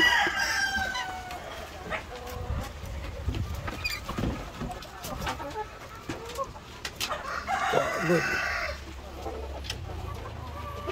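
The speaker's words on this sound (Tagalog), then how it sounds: "pinalabas natin yung rooster" A rooster crows over a steady background of clucking hens, with rustling and scattered farmyard noises throughout; no one speaks.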